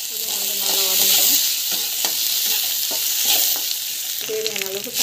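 Ginger garlic paste with salt sizzles steadily in a hot pan while a spoon scrapes and stirs it in repeated strokes, close and continuous.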